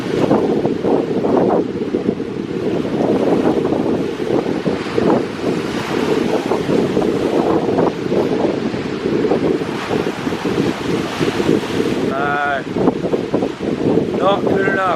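Ocean waves surge and break along a rocky shipwreck shore under constant gusting wind buffeting the microphone, loud and close, with a voice briefly speaking near the end.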